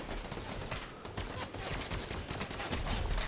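Fortnite chapter 5 battle gunfire in dense, continuous bursts of rapid shots, loud and busy throughout with overlapping weapons, no talk.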